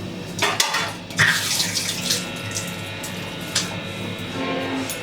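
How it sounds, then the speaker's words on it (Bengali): A running kitchen or bathroom tap splashes while hands are washed at home, a soft steady water stream broken by a few brief clatters and splashes nearby. "হাতটা ধুয়ে নি।"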